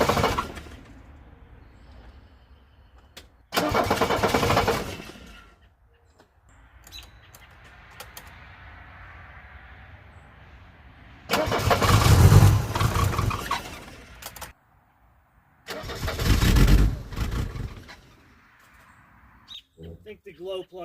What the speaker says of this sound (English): So, yeah, let's crank it up. Hopefully she fires up nice.